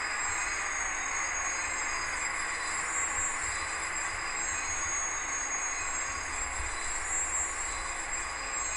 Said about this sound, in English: Brake squeal.